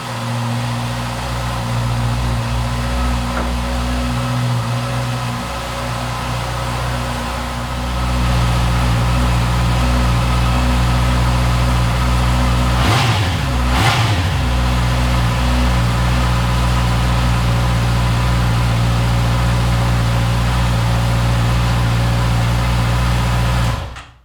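A 2020 Honda CB650R motorcycle engine idles with a deep, bassy hum, then rises as it revs, with a short burst of throttle blips midway; close and loud, no talk.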